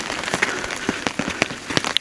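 Rain patters on a poncho and umbrella during heavy, windy weather on a hill ridge, a close, irregular spatter of drops with sharper taps standing out over a steady wash.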